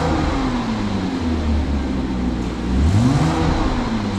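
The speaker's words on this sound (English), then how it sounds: "So we'll give the car a wee rev" A Porsche Boxster 987 2.7 flat-six engine revs up, its pitch climbing and falling in a steady rising whine, then surging again near the end, close and loud with no talking.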